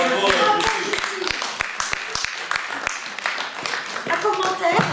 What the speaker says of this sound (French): Applaudissez Justine